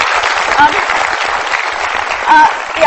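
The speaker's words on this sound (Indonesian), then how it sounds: "Boleh kasih tepuk tangan untuk Mas Apung Widadi" Loud studio audience applause for guest Apung Widadi on the Mata Najwa talk show, a dense, steady burst of clapping with brief voices and cheers rising above it.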